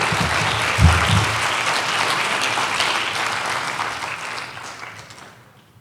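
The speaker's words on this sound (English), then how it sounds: "Let's give a warm round of applause" Audience applause fills a conference hall at the 2019 Rotary World Affairs Conference, a dense, steady wash of clapping that starts with a sharp swell and gradually fades toward silence.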